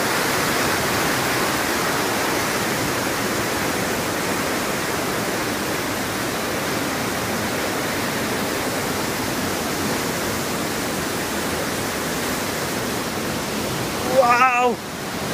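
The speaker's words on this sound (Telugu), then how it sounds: "చూడండి వాటర్ ఫాల్స్ ఎలాగుంది." Ranajileda waterfall in Araku Valley roars with a steady, broad rush of falling water, loud and continuous throughout, with a brief handling bump near the end.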